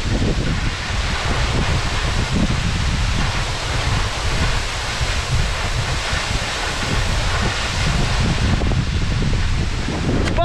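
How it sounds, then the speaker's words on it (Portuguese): The Cachoeira do Chapadão waterfall in Santo Hilário, Pimenta, Minas Gerais, roars as a dense, constant broadband rush heard close by, steady and unbroken, with no talking over it. "essa aqui então é a Cachoeira do Chapadão."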